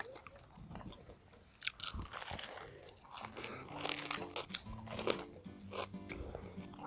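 Crisp bites and crunching into a small twice-fried mini cauldron hotdog with a Vienna sausage inside, eaten in one bite in a rural setting, with loud close chewing and crackling throughout.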